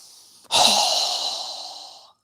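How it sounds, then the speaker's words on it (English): A strong, forceful exhale during a yoga breathing exercise, one long breathy rush that starts abruptly after a brief catch and fades out over about a second and a half, heard close and alone. "Strong exhale."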